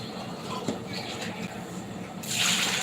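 Water is poured into a large pot while cooking Muslim-style chicken biryani, a soft steady gush that grows louder and splashier near the end.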